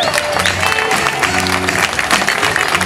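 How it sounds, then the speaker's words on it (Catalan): Audience applause greets the newly announced knight of the 2016 Cucafera Baixa casting, a steady burst of clapping with a low background hum running underneath and no talk over it. "Un fort aplaudiment."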